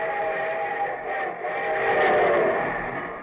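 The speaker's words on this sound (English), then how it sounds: "here comes our star-studded show train" Steam train arriving in a radio show opening effect, a sustained chugging rumble with whistle-like tonal wail that swells toward the middle and holds steady, fairly loud with no talk.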